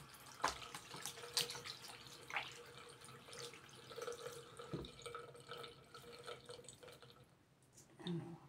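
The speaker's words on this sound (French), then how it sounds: "Je me lave les mains." Water runs from a tap during handwashing at a sink, a faint, soft trickle with small splashes and drips, heard close but quiet.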